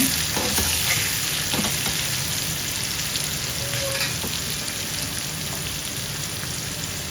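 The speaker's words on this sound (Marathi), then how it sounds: "मसाले आपण चांगले हे परतून घ्यायचे" Spices are sautéed in a pan with a constant, dense sizzle like steady rain, loud and close, with a few faint spatula scrapes early on and no voices.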